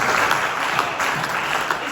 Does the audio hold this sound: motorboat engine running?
no